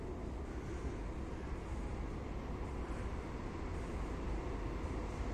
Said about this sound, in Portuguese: Olha, comboio está chegando.